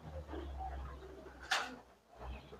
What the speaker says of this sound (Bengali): সাদা একজোড়া গিরিবাজ